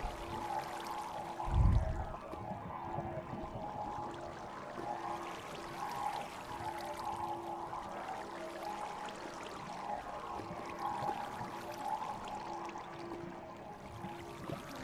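Continuous flowing water in the Minecraft video game, a steady soft trickling stream with a low hum underneath and one brief thump early on, no talking.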